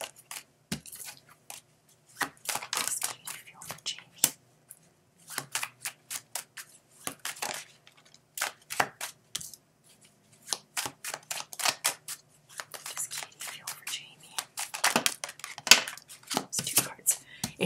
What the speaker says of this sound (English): what I do is I shuffle till only one card falls out